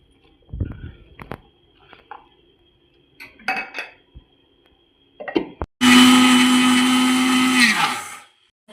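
A mixer grinder grinds garlic and dried ridge gourd pieces. A few scattered kitchen clinks and taps come first, then the motor bursts into a loud, steady whirring roar for about two seconds before spinning down.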